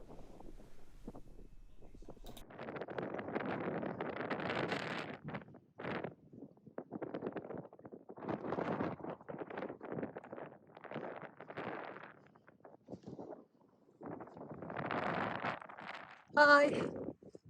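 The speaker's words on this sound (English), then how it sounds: "it's very windy." Gusty wind buffets the microphone in loud, uneven bursts of low rumbling noise, rising and falling throughout with a brief sharp clatter near the end.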